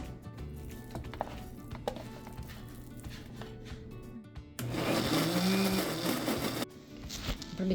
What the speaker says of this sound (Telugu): ఇప్పుడు ఇది మిక్సీ పట్టుకుందాం.